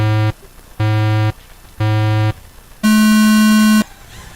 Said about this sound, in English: I'll give you some beeps